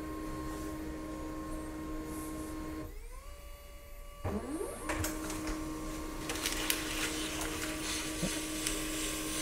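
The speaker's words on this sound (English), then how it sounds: "The document will be sent to your Pantum printer." A Pantum P2500W laser printer runs through a print job, a steady mechanical hum and whir that dips briefly, then returns louder with clicks and rolling paper-feed noise; no talking.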